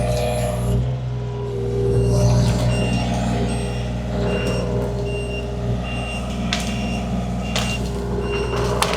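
A skid steer fitted with a tree puller works at pulling out tree roots on a Montana ranch, its engine droning steadily throughout with intermittent high reversing beeps and clanking over the low rumble.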